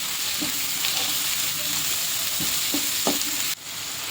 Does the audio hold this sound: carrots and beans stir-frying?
yes